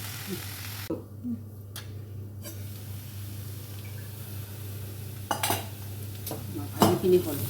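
Cauliflower leaf greens fried with a pinch of turmeric are stirred in a pan, giving brief scraping clinks of a utensil against metal around the first and last seconds over a low steady hum, with faint sizzle beneath.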